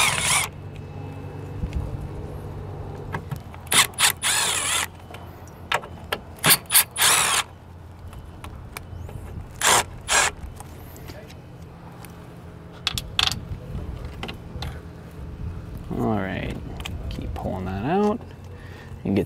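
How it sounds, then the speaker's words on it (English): Small screws being removed from the camera base of an RV backup camera on a 2020 Taxa Mantis trailer, giving faint intermittent clicks, ticks and brief mechanical rattles close by, with a few short bursts of handling noise. "I'm gonna start unscrewing our camera base"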